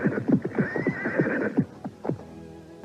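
A horse whinnies in a rising, shaky call while its hooves clip-clop in a quick, uneven patter nearby, then the neigh trails off.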